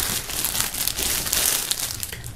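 Plastic foil crinkles and rustles as a music box set is pulled free of its wrapping, a continuous close crackling with small sharp peaks and no speech.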